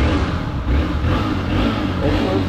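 Hero Xpulse 200 motorcycle engine revving on a solo highway ride in Karnataka, a loud, steady, close-up rumbling drone that holds throughout with no speech.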